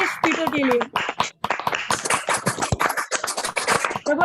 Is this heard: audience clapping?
yes